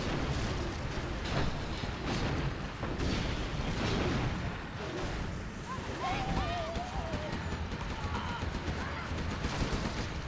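Artillery platform in a snowy real-time strategy battle firing shells repeatedly, producing a dense, continuous rumble of booms and fusillade across the whole stretch, with game voices over the barrage.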